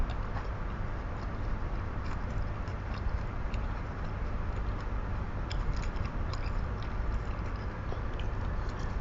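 Steady close-up chewing of Thai chili dip with mackerel and fresh raw vegetables, soft continuous crunching and mouth noises over a constant low background hum, no talking.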